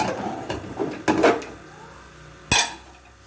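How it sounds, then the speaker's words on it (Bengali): A metal lid comes off a pot used to bake an eggless cake on the stove, giving a few sharp clanks and scrapes of metal against metal, with a final distinct clang, close by. "30 মিনিট পর আমি ঢাকাটা খুলছি"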